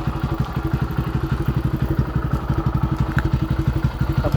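A TVS XL100 moped engine runs at a steady, rapid idle, close and loud. The exhaust pulses are evenly spaced, with a light mechanical clatter and no talking.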